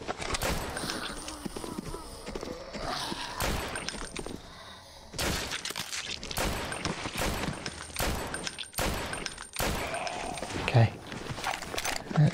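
Fire grenade and shotgun blasts against zombies in Heaven Dust 2, a string of sharp booming shots at uneven intervals with crackling game effects between them, fairly loud and steady across the stretch.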